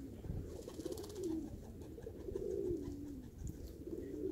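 Close, repeated cooing from a pigeon released to sun itself outdoors, low rolling calls recurring in two or three phrases over quiet background.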